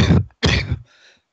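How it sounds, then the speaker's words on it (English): Two harsh, heavy coughs in quick succession, close and loud, trailing off into a brief faint rasp. "we got a very heavy cough"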